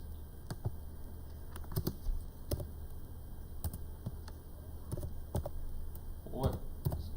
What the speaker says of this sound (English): I'm just typing something in the chat